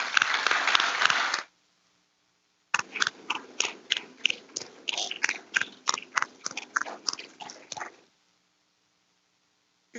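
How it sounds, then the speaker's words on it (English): Applause for military graduates at a commissioning ceremony: a short burst of dense clapping, a silent pause, then a long run of distinct, evenly spaced claps that stops abruptly, with no talking. "let's give a round of applause to all of our military graduates here today"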